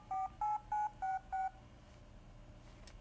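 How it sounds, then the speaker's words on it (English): An Apple Newton PDA, with a phone held up to its speaker, plays five evenly spaced DTMF dialing tones in a quick, steady rhythm, followed by quiet background hiss. "Newton would actually dial the phone"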